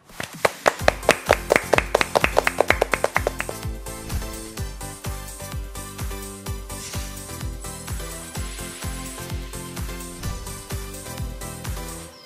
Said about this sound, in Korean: 박수로 맞아주세요.